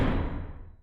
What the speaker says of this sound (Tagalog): Biglang nagsara ang pinto ng malakas.